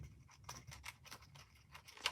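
Scissors snip repeatedly through paper while cutting out a gift tag, a quick run of short, crisp cuts heard close and quiet with no talking.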